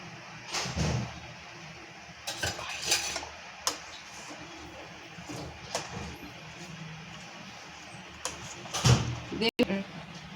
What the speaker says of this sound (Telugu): ఇలా మూత పెట్టి మగ్గ పెట్టుకుందాం